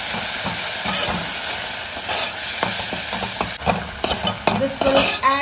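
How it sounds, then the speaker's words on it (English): Prawns stir-fry in a pan for a Goan dry prawn curry with drumsticks: a steady sizzle with a spoon scraping and clinking against the pan, the stirring growing busier toward the end, no talk. "Add them and now stir fry them for at least about 3 minutes."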